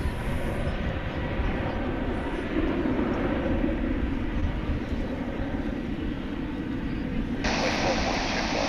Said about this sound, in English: On its way to beautiful downtown Burbank, American Airlines flight 2597, 737-800